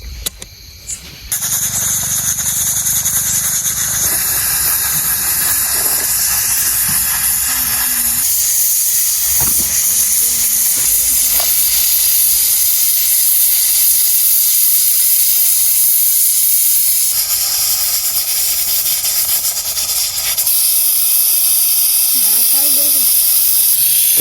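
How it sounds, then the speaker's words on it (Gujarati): A pressure cooker with green pigeon peas and tomatoes hisses loudly and steadily as steam escapes, with high whistling tones running over the hiss for a long stretch, close and continuous. "આપણે કુકરનું ઢાંકણું પેક કરી દઈશું અને 2 થી 3 સીટી પડે ને ત્યાં લગન આપણે તાપ કરીશું"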